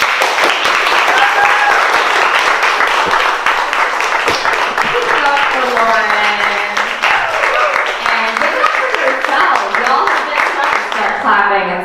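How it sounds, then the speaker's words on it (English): A loud, dense audience response at a youth spoken-word poetry showcase: sustained clapping with stomping and finger snapping, close and energetic throughout, with cheers and voices rising over it partway through. "Clapping and stomping and snapping."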